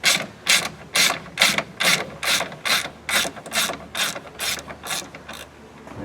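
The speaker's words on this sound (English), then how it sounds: "we're going to take a 10 millimeter ratchet or wrench" 10 mm hand ratchet working on the horn mount of a 2014 Ford F150 EcoBoost, about fourteen crisp clicking pawl bursts in a steady back-and-forth rhythm, close and clear with no talking.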